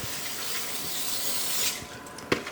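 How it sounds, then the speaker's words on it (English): Liquid sprays onto ribs before smoking in a steady hissing burst lasting about a second and a half, followed by a few faint taps and one short sharp click. "I'm going to hit this with some spray."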